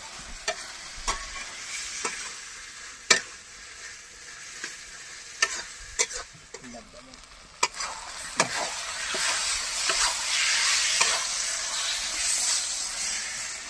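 Pork fries in a pan with tomato and turmeric, a steady sizzle broken by sharp scraping clicks as it is stirred, growing into a louder hiss toward the end.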